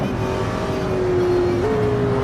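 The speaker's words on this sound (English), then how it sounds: "I'm really liking the McLaren in this, sound-wise. I think it's the best sounding GT3 car so far" McLaren GT3 race car engine in a sim racing game, a loud steady high-revving drone held near one pitch, with a brief upshift step partway through and no talk.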